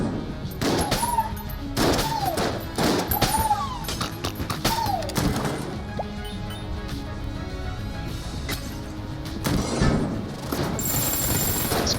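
Rapid bursts of Winchester gunfire in Enter the Gungeon, sharp repeated shots and impacts in quick clusters over game music and effects, loud and busy throughout.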